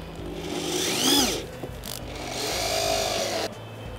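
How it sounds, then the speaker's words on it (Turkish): A cordless drill fitted with a screwdriver bit drives a screw into wood, giving two sustained whirring runs of rising and falling motor pitch with a brief pause between them, close and fairly loud with no talk. "Şimdi vidalama ucunu taktık ve ahşaba vida atacağız."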